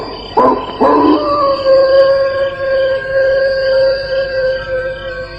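Wolves howl in drawn-out, wavering tones that start with a few rough onsets and then hold one long sustained howl, loud and fairly close, with no talk over them.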